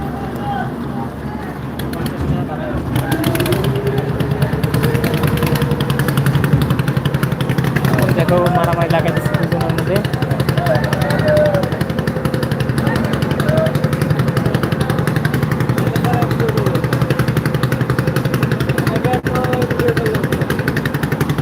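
An engine-powered trawler boat chugs with a steady low rumbling drone throughout, while people talk nearby over the motor.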